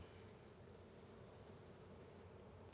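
Honeybees buzz in a dense, continuous hum around an open hive, heard close and steady throughout.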